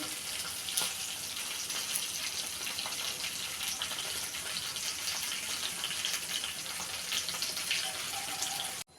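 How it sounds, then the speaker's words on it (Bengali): Fish frying in hot oil in a pan, a continuous loud hiss and crackle of sizzling that runs steadily throughout, with no voices. "উল্টিয়ে পাল্টিয়ে মাছ ভেজে নিচ্ছি।"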